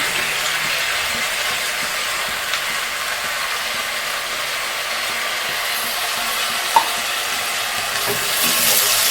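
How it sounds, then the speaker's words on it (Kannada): Green peas and mixed vegetables frying together in a pan for a vegetable kurma, giving a steady close hiss of sizzling with occasional faint stirring scrapes and one sharp clink. "ಇದನ್ನು ಸಹ ನಾವು ಫ್ರೈ ಮಾಡೋಣ ಎಲ್ಲ ತರಕಾರಿಯ ಒಟ್ಟಿಗೆ"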